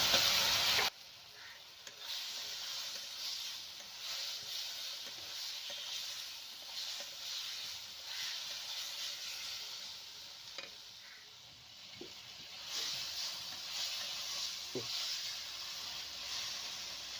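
Potatoes and green chillies sauté in a pan of spiced masala with a soft, steady sizzle and the occasional scrape of a stirring spoon, fairly quiet throughout.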